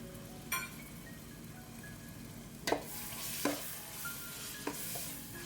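Tomato and coriander, with a splash of lemon juice, sauté in a pan for fish biryani, giving a faint, steady sizzle broken by a few soft scrapes and taps of a spoon.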